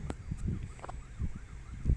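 A faint wailing ambulance siren rises and falls in the distance near Żółtańce beach, Chełm, Poland, partly masked by low rumbling street noise.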